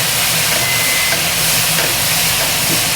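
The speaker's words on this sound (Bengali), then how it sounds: "আমি এই 2-3 মিনিট মতন ফুলকপিটা একটু ভেজে নেব।" Cauliflower frying in a pan with a little turmeric, a loud continuous sizzling hiss of hot oil, close and steady, with no voice over it.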